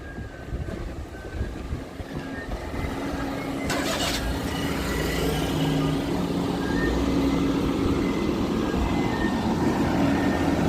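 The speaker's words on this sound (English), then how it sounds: "The sad moment when the garbage gets picked up and crushed in the brutal garbage truck." A garbage truck on a street in Musashi-Shinjo, Kawasaki, Japan, its engine and crushing machinery rumbling steadily and growing louder while a faint melancholic tune plays from it, with outdoor street noise around and no talk.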